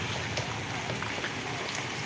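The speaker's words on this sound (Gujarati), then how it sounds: "અમારે તો અત્યારે વરસાદ ચાલુ જ છે" Heavy rain falling live in Porbandar, Gujarat, a dense continuous hiss of drops with faint patters, steady and loud throughout.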